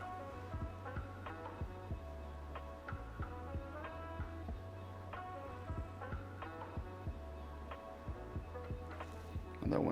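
Montech Z3 Pro ARGB PC fan spinning at low speed, a faint, steady low hum broken by soft, regularly recurring ticks.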